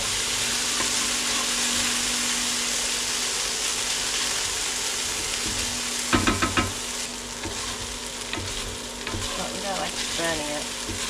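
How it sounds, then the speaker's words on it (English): Rice frying in a pot for a fried rice dish, a loud continuous sizzle with stirring scrapes, close up, and a burst of clattering utensil hits partway through. "We want it to get like the fry effect."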